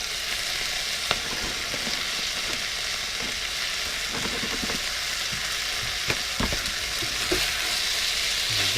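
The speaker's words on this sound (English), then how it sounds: "And then we're going to put our veggie in." Vegetables sizzle steadily in a hot wok aboard a boat, a continuous frying hiss with a few sharper crackles and stirring clatters scattered throughout, fairly close and with no voices.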